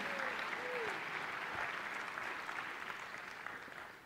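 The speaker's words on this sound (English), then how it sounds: "Can we just give a round of applause for just being here?" Applause from a church audience for a large group of students: dense, steady clapping fills the whole stretch at an even level, easing off slightly at the end, with faint voices underneath.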